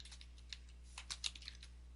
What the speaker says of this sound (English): But I could type in here how to configure